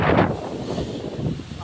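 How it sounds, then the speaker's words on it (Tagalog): Strong wind at the sea rushes and buffets against the microphone in a loud, steady roar, with a brief burst at the start. "Malakas na yung hangin eh."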